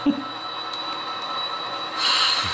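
Model train wheels grind and squeal along the rails in a salvage yard switching scene, with a thin, high metallic whine running throughout and getting louder toward the end.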